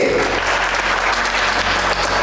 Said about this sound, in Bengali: একটা জোরে হাততালি প্লিজ